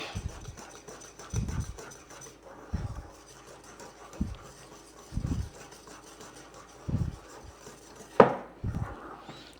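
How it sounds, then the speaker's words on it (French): A cake batter with flour is stirred by hand in a bowl. Low, dull strokes come in irregular bursts about every second or so, close and moderately loud, and one sharper scrape stands out near the end. "on va venir tout simplement remuer pour bien mélanger"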